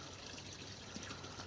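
Faint, steady rush of water flowing from a desert spring, a continuous soft trickle and gush with no voices.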